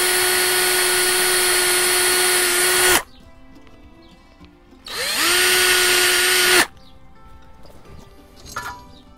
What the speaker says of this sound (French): Donc je perce exactement pareil.